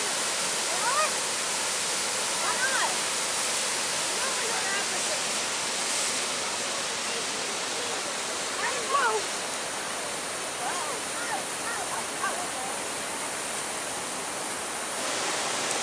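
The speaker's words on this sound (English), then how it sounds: "Now we're about to see the best views of this waterfall." A waterfall at Cumberland Gap roars steadily and loudly throughout, a dense wash of falling water that never lets up.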